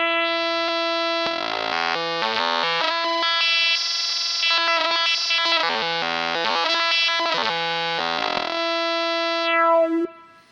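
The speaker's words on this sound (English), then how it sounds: "So that's ring modulation." A buzzy, clangorous ring-modulated synthesizer line with inharmonic metallic overtones plays a shifting sequence of notes, then cuts off abruptly.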